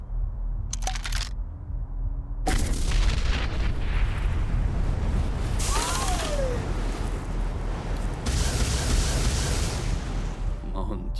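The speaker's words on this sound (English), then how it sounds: "Load it into the cannon." Repeated booming blasts with heavy low rumble, like cannon fire, going off continuously amid a noisy battle din with voices mixed in.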